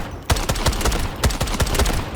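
Single-fire rifle shots in the shooter Delta Force, a quick series of sharp, punchy reports spaced a fraction of a second apart over a busy game background.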